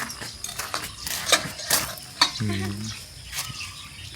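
Dishes clatter and scrape during outdoor washing at a mountain campsite, with clinks of utensils and water splashing, a short tonal squeak in the middle, close and moderately loud.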